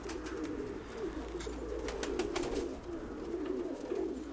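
Mykolaiv pigeons coo in soft, repeated low murmurs, close and steady, with faint background noise and no talking.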